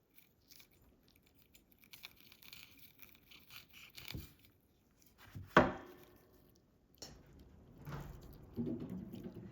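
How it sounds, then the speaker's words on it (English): A Callisia repens Pink Lady plant stem is cut in half with a single sharp, close snip, standing out from faint handling rustles in an otherwise quiet space. "I'm just going to give it a chop right there"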